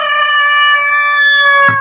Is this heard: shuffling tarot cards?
no